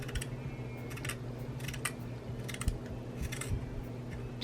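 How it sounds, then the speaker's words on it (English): Scissors snip through fabric and ribbon in a series of quick, crisp cuts close by, with steady low hum in the background. "It's nothing worse than using a dull pair of scissors to cut through fabric and ribbon."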